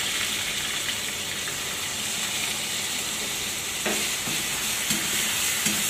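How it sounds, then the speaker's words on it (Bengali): Ground onion paste frying in hot oil for a spiced chicken dish gives a loud, continuous hissing sizzle, with a few stirring scrapes late on and no voices. "পেঁয়াজটা যতক্ষণ না ব্রাউন হচ্ছে ততক্ষণ আমাদের ভেজে যেতে হবে"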